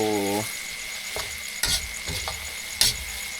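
A brief voice, then a steady crackling sizzle of grasshoppers frying in a pan, with a couple of sharp scraping stirs and a persistent high whine.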